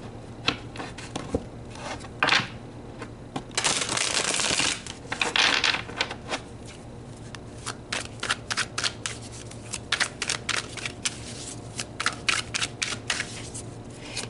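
Tarot cards being shuffled at close range in repeated riffling bursts, with a longer dense rustle near the middle and quick crisp flicks toward the end, heard alone without talk.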